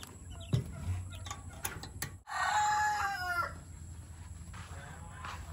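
A rooster crows once at moderate distance, a drawn-out call over a steady outdoor hum, with a few scattered clucks and knocks before it.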